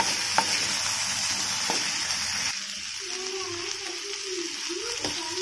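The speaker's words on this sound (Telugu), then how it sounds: "ఒక్కసారి ఈ మసాలా అంతా బాగా అరటికాయలు పట్టేలా కలుపుకోండి" Masala being stirred through plantain pieces in a hot pan, with a steady sizzling fry, a few scraping strokes of the spoon and a softer shift in the cooking noise partway through.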